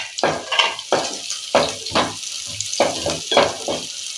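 Onions and curry leaves sauté in a pan for a spinach and lentil dish, a steady close sizzle broken by a regular rhythm of stirring scrapes, about eight strokes, with no voices.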